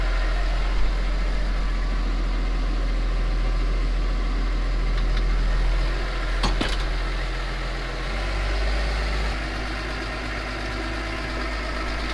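An IVT farm tractor engine idles steadily while warming up, a continuous low rumble held at an even level, with a brief sharper disturbance partway through and a slight drop in the drone near the end.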